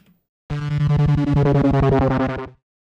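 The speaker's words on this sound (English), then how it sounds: "I ended up taking this Serum bass drone effect" A buzzing Serum synth bass drone kicks in suddenly, pulsing rapidly with a gritty, distorted texture for about two seconds, then cuts off.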